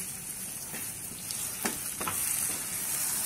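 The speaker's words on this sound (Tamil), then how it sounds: "இப்போ நம்ம வந்து இதில் எக்கு ஊற்றிக்கலாம்." A duck egg poured into a hot pan gives a steady, moderate sizzle, with a few soft scraping stirs rising briefly over the hiss.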